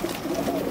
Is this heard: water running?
no